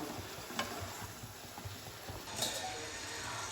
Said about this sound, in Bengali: এবার আমি সবজিটা একটু নেড়ে নেবো